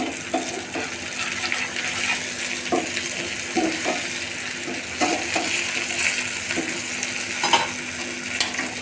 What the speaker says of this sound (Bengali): আর এখানে ট্যাংরা মাছ ভুনা করছে।